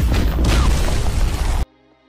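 Explosion in an animated action film, a loud booming blast with roaring debris that holds for a second and a half, then cuts abruptly to near silence with faint music.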